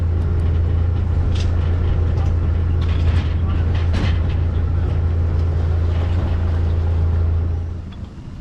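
A boat being launched on a river, its engine droning in a loud, steady hum that holds for several seconds before easing off at the end.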